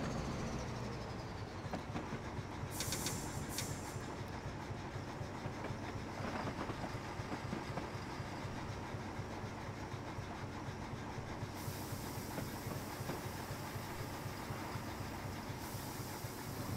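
Steady locomotive rumble and rolling rail clatter from Train Simulator 2017 at the Doncaster Works yard, continuous and fairly loud throughout, with a brief hissing air release early on and no talking.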